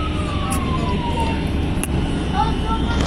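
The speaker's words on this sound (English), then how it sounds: "Of course the ambulance got called." An ambulance siren wails over loud bus engine and road noise while riding a CNG transit bus, its sweeping tone fairly distant and partly masked.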